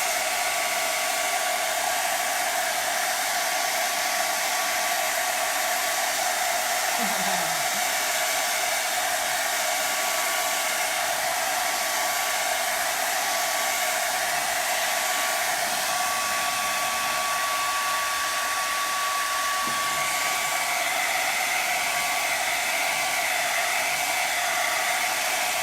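Hair dryer blowing steadily on a house cutout craft, a loud continuous whooshing roar with a fixed whine that holds for most of the stretch and shifts slightly near the end.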